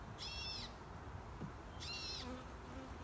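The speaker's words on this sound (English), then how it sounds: "the birds are yelling at me" Birds calling near a beehive, two short high whistled calls about a second and a half apart, faint over a steady buzzing hum of bees.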